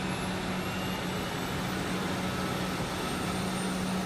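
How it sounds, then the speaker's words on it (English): Steady engine hum in a video game, a continuous droning broadband rumble with a low tonal drone, holding at an even level throughout with no talking. "you hear that engine humming, Parvati?"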